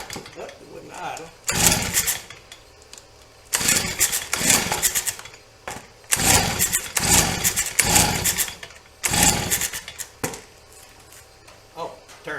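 A Stihl BG 55 leaf blower with a newly replaced carburetor runs in uneven bursts, its small two-stroke engine surging and dropping several times as it struggles to idle, loud and close, with people speaking briefly.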